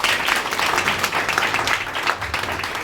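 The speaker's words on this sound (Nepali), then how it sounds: "अझै जोडदार ताली बजाइदिउँ" A crowd applauds at a church youth conference in Bangalore, giving a dense, continuous patter of many hands clapping. It stays loud and even throughout, with no talking over it.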